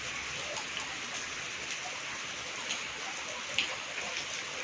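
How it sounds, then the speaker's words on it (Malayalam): Steady rainfall patters continuously in a close, even hiss of drops on surfaces, moderately quiet with no voices. "മഴ തുടങ്ങി."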